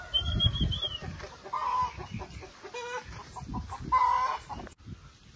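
Roosters and hens cluck and call repeatedly in an uneven jumble, some close and some farther off, amid rustling farmyard noise.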